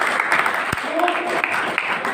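Short stretch of crowd applause at a school function, clapping under a speaking voice from a microphone.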